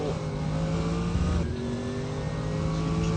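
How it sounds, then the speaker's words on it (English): Race car engine roaring under sustained power at the Nurburgring in the RaceRoom racing game, a loud steady drone with harmonic whine that dips briefly midway as the car goes light, then pulls on. "Hear the engine as he tries to get the power down the suspension."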